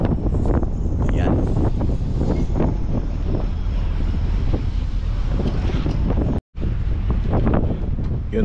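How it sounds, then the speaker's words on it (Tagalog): Strong wind buffets the microphone on a fishing boat, a loud, steady roaring rumble with gusting swells throughout and one brief cutout near the end, while someone talks over it. "sobrang lakas ng hangin"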